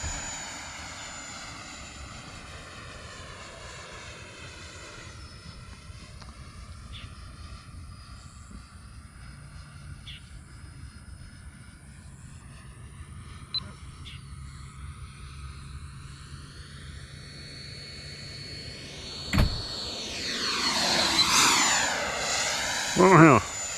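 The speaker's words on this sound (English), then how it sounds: "I never saw that airplane." A droning aircraft engine hums throughout, swelling louder and shifting in pitch toward the end as the plane passes close overhead.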